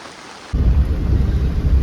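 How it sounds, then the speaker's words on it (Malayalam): A low rumble of thunder swells suddenly and rolls on beneath a dense, heavy downpour, loud and close. "നല്ല മഴ നല്ല മഴയാണ് കേട്ടോ"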